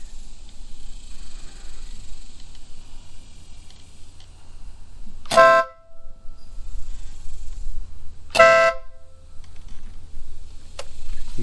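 An aftermarket horn on a 2017 Honda Grom motorcycle gives two short, loud, sharp blasts a few seconds apart over a quiet background hum.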